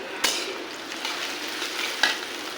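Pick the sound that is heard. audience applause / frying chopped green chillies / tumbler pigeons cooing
frying chopped green chillies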